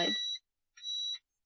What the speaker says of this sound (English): this one is supposed to be the beep